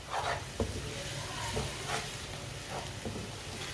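Three eggs frying over raised heat in a pan while being stirred, giving a steady low sizzle with a few soft scraping knocks of the utensil through the clip, no talking.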